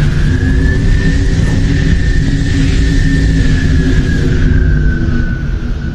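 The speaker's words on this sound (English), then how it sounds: "We're gonna steal that ride. It's landing." A Pelican dropship comes in to land in Halo 3: ODST, giving a loud, steady engine roar with deep rumble and a sustained whine that holds for the whole stretch.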